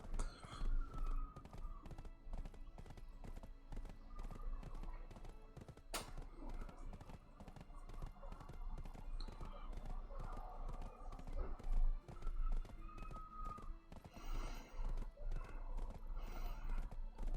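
A horse in the Black Desert video game gallops with a steady, rapid clip-clop of hooves, whinnying several times over the run, with faint game sounds and occasional sharp clicks mixed in.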